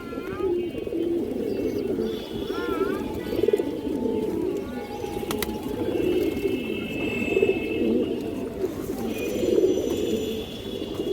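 Pigeons at a market coo steadily in soft, overlapping throaty rolls, with a few brief chirps over a busy murmuring background.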